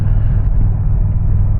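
A motorcycle engine rumbles steadily while riding, a deep, continuous low drone that stays even and close throughout with no distinct revving.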